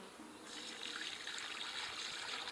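A one-to-one sugar water feed is poured into a bee colony split, heard as a steady, close trickle of liquid that starts abruptly and runs without a break, with no voices.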